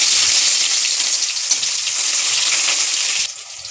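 Chopped onions hit hot oil in a wok, giving a loud, steady hiss of frying that carries on without a break and eases off slightly near the end.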